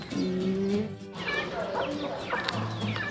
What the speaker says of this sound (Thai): ส่วนพ่อแหวงก็ให้อาหารไก่นะคะ